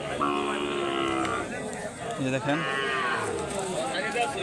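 Cattle at a busy cattle market give several loud, drawn-out moos close by, over crowd murmur, with someone briefly speaking.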